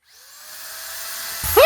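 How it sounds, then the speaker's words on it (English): A high-pitched whining drill, like a dentist's drill, spins up steadily and grows louder for over a second before a sharp vocal squeal cuts in at the end. "Drilling!"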